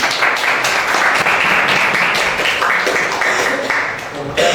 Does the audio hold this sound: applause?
yes